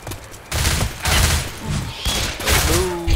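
Bursts of gunfire and fusillades erupt in the video game Left 4 Dead 2, loud, close and repeated in rapid clusters with short gaps between volleys.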